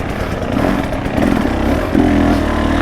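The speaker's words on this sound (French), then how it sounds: "surtout ce moteur hein, qui pousse très très fort" A 2025 KTM 300 EXC two-stroke enduro motorcycle engine buzzes loud and close, rising and falling as the throttle blips, with a raspy, revving drone throughout.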